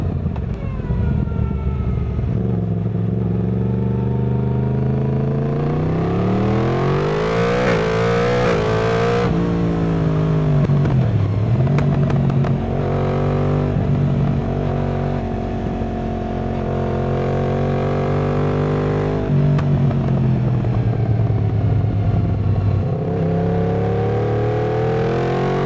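Yamaha MT-10 SP hyper naked motorcycle engine revs loudly and steadily nearby, rising and falling in pitch through repeated throttle blips across the whole stretch, with no talking.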